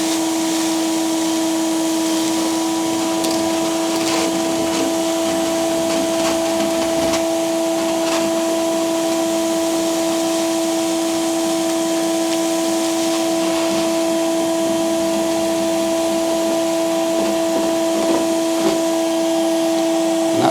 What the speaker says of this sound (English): you can see it vacuums up all the ballast, leaves a nice shoulder.